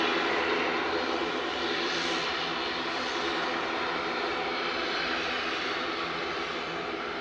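Steady broadband engine roar of a Loganair airliner taxiing at East Midlands Airport at night, a continuous even drone with no voices over it.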